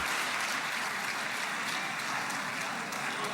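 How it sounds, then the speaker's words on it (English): Dense, steady applause rolls through a large hall while a protester is led out, a brief continuous burst of many hands clapping at even volume. "That's him applauding as the protester was ushered out of"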